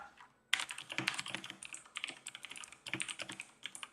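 Fast, hard typing on a mechanical computer keyboard, close and loud, with dense bursts of sharp key clicks after a brief quiet start and a few short pauses.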